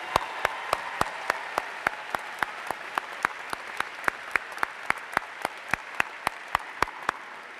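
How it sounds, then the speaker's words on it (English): Sharp, evenly spaced claps ring out one after another in a steady rhythm for medal winners at a regional Science Olympiad event, each clap crisp and distinct over a faint room murmur. "So give them a round of applause,"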